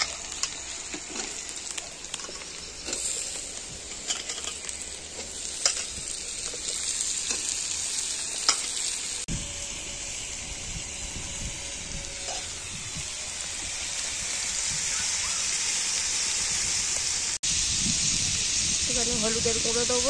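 Onions and green chillies frying in a pan, a steady sizzling hiss that swells and grows denser toward the end, with faint scrapes and clinks of stirring and a voice now and then.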